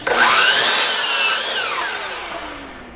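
A power saw rips through a wooden board cut from a 2x8 or 1x4, giving one loud, close, continuous cut that whines hard for over a second, then eases off as the blade winds down.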